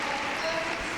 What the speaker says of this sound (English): Applause from everybody,